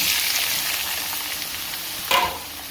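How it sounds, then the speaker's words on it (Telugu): Onions frying in oil for a chicken bhuna masala make a steady, close sizzling hiss throughout, with a sharper crackling burst near the end, and no talking. "అవి వేగిపోయినాయి కదా, ఉల్లిపాయలు వేసేసుకుందాం."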